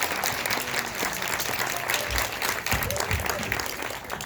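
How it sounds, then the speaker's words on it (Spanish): An audience at an eighth-grade school promotion ceremony applauds, keeping up steady, dense clapping throughout with a murmur of crowd voices beneath it, fairly loud and reverberant. "Denles un aplauso para que se les quite la nerviosa."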